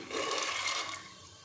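Water is poured from a small pot into a pressure cooker for cooking dal, a short rushing splash that swells quickly and then tapers off.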